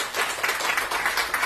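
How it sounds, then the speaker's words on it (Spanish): A church congregation claps together in a brief burst, rhythmic pulses of many hands close and fairly loud, with no voices over it. "Dale un aplauso al Señor si lo crees."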